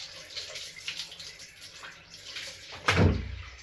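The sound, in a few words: aquarium water draining out of a fish tank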